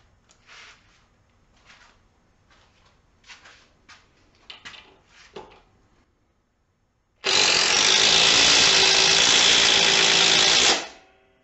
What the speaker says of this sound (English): we're going to be testing out the Makita impact driver